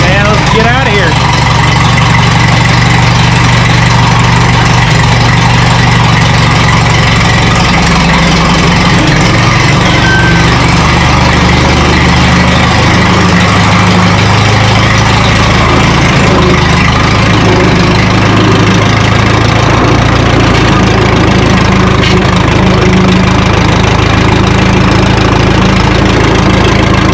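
A Minneapolis Moline tractor engine idles steadily with a little choke applied after starting, a loud continuous low rumble running throughout with a voice talking over it.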